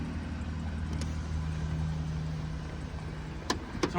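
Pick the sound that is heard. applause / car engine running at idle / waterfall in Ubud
car engine running at idle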